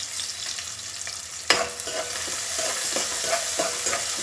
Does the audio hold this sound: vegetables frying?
yes